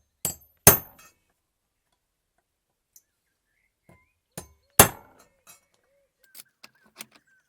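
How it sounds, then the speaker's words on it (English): A hammer strikes a center punch on a Skoda Fabia Mk1 number plate light surround, giving two sharp metallic taps with quieter light clinks and taps scattered between them in a quiet setting. "I'm going to use a punch to start the hole off"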